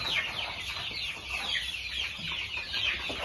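Many young native chicken chicks, about fifty days old, cheep continuously in high, thin peeps, close by and overlapping, with no talking.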